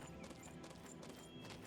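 A horse in the video game Oblivion clip-clops with a brisk run of hoofbeats and a brief whinny, all very faint and distant-sounding, with no clear talking.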